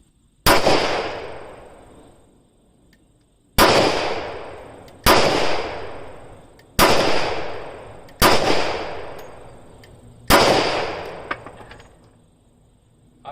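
Six loud, sharp gunshots from a Smith & Wesson M&P 10mm pistol firing full-power Fiocchi ammunition, spaced irregularly about one to two seconds apart, each with a ringing decay, and no talking.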